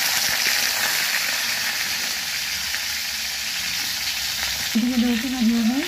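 Potatoes frying in hot oil in a kadai, a steady dense sizzle and crackle throughout, close and loud, with a brief tonal hum entering near the end.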